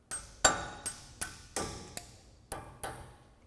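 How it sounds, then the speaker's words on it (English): A hammer taps a pin through on a Tundra ReadyLIFT suspension lift install, eight sharp metallic strikes in an even, unhurried rhythm, close and clear. "then just take a hammer and tap it through"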